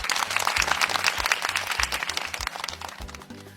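Dense, sustained audience applause fills the room after a fighter from Côte d'Ivoire is introduced at a combat event, steady and loud throughout with a low rhythmic beat underneath.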